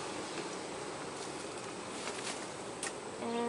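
A continuous close hum of honey bees fills an opened hive, steady and even, with a short sharper buzz near the end as one bee flies past.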